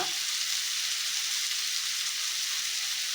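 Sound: frying spices and coriander in a pan for shahi paneer

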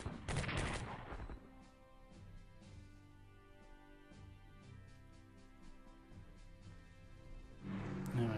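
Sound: anti-tank cannon fire in video game Strategic Command

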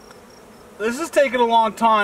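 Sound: swarm of bees buzzing

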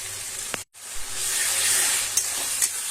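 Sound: ginger garlic paste frying with onions in a pan

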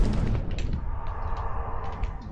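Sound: grenade exploding in Valorant, video game

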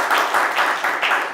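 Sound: applause

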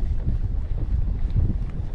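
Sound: wind blowing

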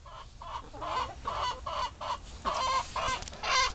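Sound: chickens clucking

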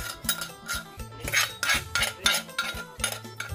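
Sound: scraping with kitchen utensils

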